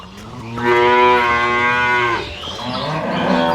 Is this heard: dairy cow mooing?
yes